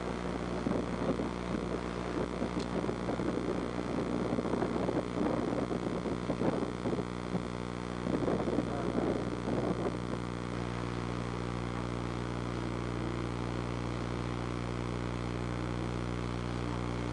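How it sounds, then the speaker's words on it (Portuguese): A cargo boat passes on the sea off Fortaleza, Brazil, its engine a steady low drone with mid-range rumbling that swells and fades under wind and distant ambience, no talk. "Barco lá de carga."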